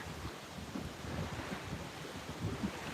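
Steady rush of lake water and wind noise buffeting the microphone at a lakeside in Sweden, a continuous outdoor wash with no voices.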